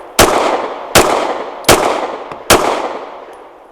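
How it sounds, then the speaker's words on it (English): Four loud, sharp pistol shots from a Girsan Witness2311 double-stack 1911 with a red dot at an outdoor range, fired at an even pace about three quarters of a second apart, each with a ringing decay. "Now the Girsan Witness2311 with its far dot. 5 shots at reasonable pace."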